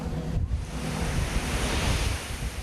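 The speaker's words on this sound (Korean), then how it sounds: "파도가 칠 때마다 바닷물이 폭포수처럼 쏟아진다." Heavy sea waves surge and crash over the deck of a snow crab fishing boat in the East Sea, a continuous loud wash of water and wind noise with no talk.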